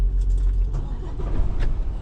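A parked cargo truck idles close by, a steady low, heavy engine rumble that fills the whole moment without any talk over it.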